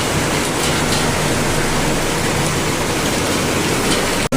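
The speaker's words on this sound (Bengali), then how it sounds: "বাইরে কত জোরে বৃষ্টি হচ্ছে এই দেখো" Heavy rain falls outside a house as a loud, dense, continuous hiss of water with no pauses, steady throughout until a brief drop at the very end.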